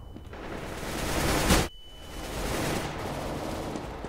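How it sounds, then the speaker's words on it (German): Gunfire in Counter-Strike: Global Offensive: a dense, noisy burst of shots swells to a sharp loud peak, drops out briefly, then resumes as a steady rattling wash of shooting. "Die schießen ja schon wieder rein."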